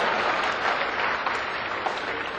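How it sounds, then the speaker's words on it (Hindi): A hall audience claps loudly and steadily at a Hindi poetry gathering, a thick, continuous burst of applause with no pause across the whole stretch. "और अब आपकी तालियां उठे।"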